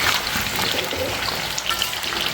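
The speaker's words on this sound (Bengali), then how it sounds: "আলুটা লাল লাল করে ভাজা হবে" Potatoes frying in a pan, a steady close sizzle and crackle of hot oil with scattered pops throughout, no talk.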